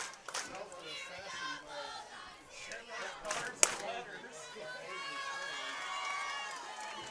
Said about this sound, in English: Can't even hear myself think with how loud the crowd is.